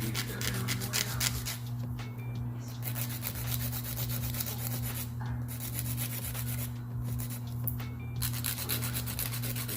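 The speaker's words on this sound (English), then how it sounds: "I'm just going in and filing and shaping up the sides of the nail." A nail file shapes the sides of acrylic nails with close, continuous rasping strokes in a steady back-and-forth rhythm, briefly easing off a few times.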